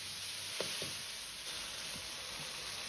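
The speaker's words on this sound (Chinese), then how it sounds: "接着下入切好的西红柿翻炒。" Chopped tomatoes stir-frying in hot rapeseed oil in a wok over medium heat, giving a steady, moderately quiet sizzle with a few soft scraping stirs and no talking.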